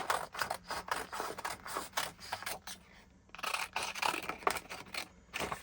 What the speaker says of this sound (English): These are my trusty old titanium Westcott scissors.